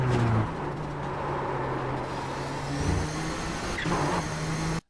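Nissan GTP ZX-T race car at Suzuka in iRacing, a steady engine drone that holds a sustained pitch with slight shifts as it carries speed through a corner, loud and continuous before cutting off abruptly.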